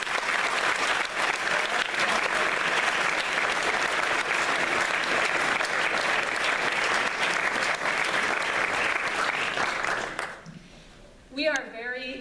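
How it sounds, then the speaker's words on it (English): Audience at a high school chamber singers' concert gives a sustained, loud round of applause that fades out near the end, followed by a speaking voice. "Can we have a round of applause for them?"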